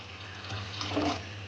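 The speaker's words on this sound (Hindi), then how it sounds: "2 गिलास के करीब इसमें पानी डाल दें।" Water poured into a pot of soaked daal mash (urad lentils) for cooking: a steady, close splashing gush that swells slightly toward the end, with no talking.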